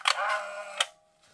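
A Nikon L35AF2 compact film camera fires its shutter with a sharp click, followed by the whirring motor advancing the film and a second crisp mechanical snap, close and clear with no voices.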